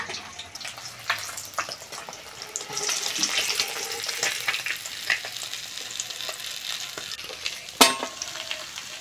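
Hilsa fish frying in hot oil, a continuous close sizzle and crackle with spatula scrapes and occasional sharp pops, one louder clack near the end.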